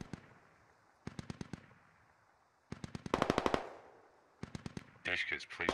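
DShK heavy machine guns fire in the combat game Squad, several rapid bursts of evenly spaced shots with short pauses between them, some bursts closer and louder, the last overlapped by a brighter crackling burst.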